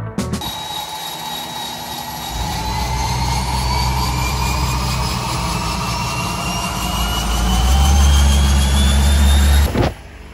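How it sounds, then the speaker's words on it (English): An aircraft turbine engine spools up from a low whine into a rising, steady roar that builds in pitch and loudness before cutting off abruptly near the end. "I did get to do my very first turbine engine start."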